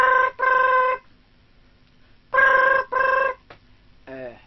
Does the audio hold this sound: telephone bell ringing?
yes